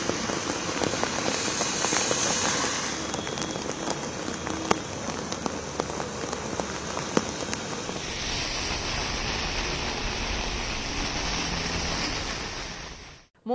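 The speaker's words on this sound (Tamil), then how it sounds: "இன்று காலையிலும் தொடர்ந்து மழை பெய்ததால் தண்டவாளங்களில் தண்ணீர் தேங்கியது" Heavy monsoon rain pours steadily in Mumbai, a dense, continuous hiss of drops hitting surfaces with no letup. It stays loud and even throughout, with a few sharper splashes standing out.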